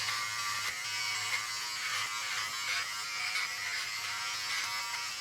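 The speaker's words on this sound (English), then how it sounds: "When you're using a razor like this" Electric razor buzzing steadily while shaving a head during a home haircut, a close, continuous droning hum with slight shifts as it moves over the scalp, no talk.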